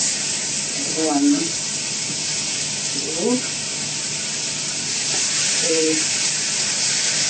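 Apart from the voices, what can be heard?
plantain frying in very hot oil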